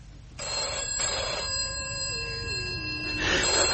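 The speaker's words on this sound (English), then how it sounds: "That's the hospital on the phone now." A telephone rings with a bright electronic warble, steady tones that sweep downward midway, then a second burst of ringing at the end, fairly loud and close with no talk.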